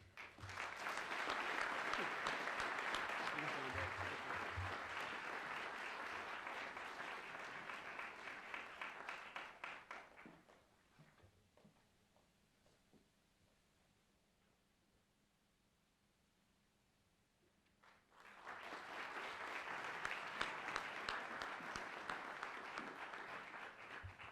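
An audience at a school honors night applauds its recognized seniors, a dense burst of clapping that fades to near silence mid-clip before a second strong round of applause rises again.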